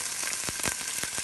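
Ginger pieces sizzling in hot oil in a frying pan, added after cloves and popping seeds for a Kerala-style watermelon rind pickle; steady close frying hiss with a few soft clatters, no talking.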